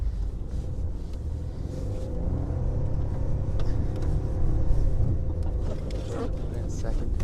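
A Jeep Liberty engine rumbles low and steady while driving in first gear through deep snow, swelling slightly as it pushes on, with someone talking over it.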